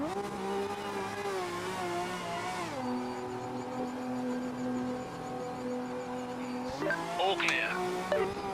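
Race cars from the GT3, GT1 and LMP classes in a racing video game, with a steady engine drone that drops and then climbs again as the car brakes and accelerates. A sharper burst of engine noise comes near the end.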